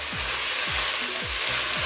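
A ginger and garlic mixture fries in a pan with a steady, close sizzle, broken by about four regular scraping strokes of a spoon.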